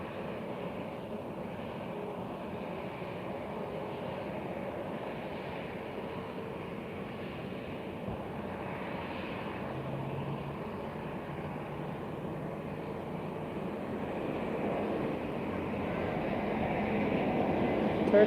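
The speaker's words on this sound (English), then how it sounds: "a landing coming up. It's coming in slowly but surely." A Turkish Airlines jet approaches to land at Lisbon Airport, its engine drone a distant broad rumble that slowly swells louder toward the end, with faint background voices.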